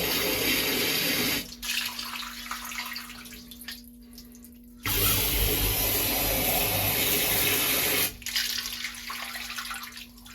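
Water gushes loudly into a boat's anchor rain locker, a steady broadband rush that cuts out and restarts twice, leaving quieter trickling and dripping between the bursts.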